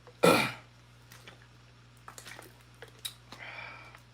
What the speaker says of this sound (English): I'm gonna try to my best to try to control this cough